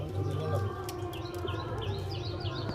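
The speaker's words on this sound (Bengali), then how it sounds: "এই দেখুন পায়রা দেখুন কেমন" Pigeons in a loft that holds Kaldum, Fulshira and Kalshira breeds give low, rolling coos close by, with higher chirps mixed in and a faint voice in the background.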